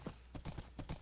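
Horse hooves clop on the ground in Minecraft 1.7.5, four quick, close hoof beats in a galloping rhythm, alone and fairly soft.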